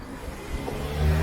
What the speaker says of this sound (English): Not sure if this car is pulling a U-turn